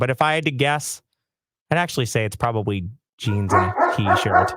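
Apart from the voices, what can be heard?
dog barking at neighbor kids at the door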